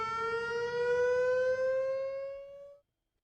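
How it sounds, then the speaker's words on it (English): A community alert siren test: a steady siren tone rings out loud and alone for about three seconds, its pitch gliding slightly upward before cutting off abruptly. "You may hear a siren tone followed by an all-clear chime."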